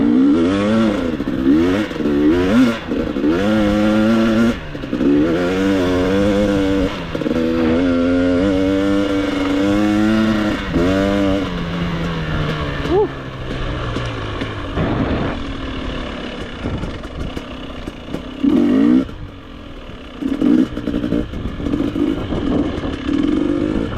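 A GasGas EX250 two-stroke dirt bike engine revs hard while riding, rising and falling in repeated throttle bursts, loud and close with rough buzzing tone and no talk.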